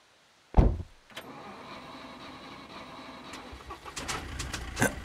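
A car in the survival game SCUM starts with a sharp thump, then settles into a low engine hum while driving, with rattles and knocks building toward the end.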